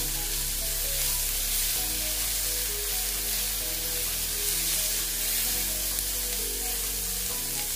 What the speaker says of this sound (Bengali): কাঁচা লঙ্কা, তারপর টমেটো কুচি দিয়ে দিচ্ছি। দিয়ে এবার আবার এইগুলোকে ভালো মতন কষিয়ে নিচ্ছি।